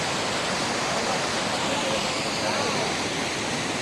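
The Humana Falls waterfall roars steadily nearby, a thick, unbroken rush of falling water with no pause.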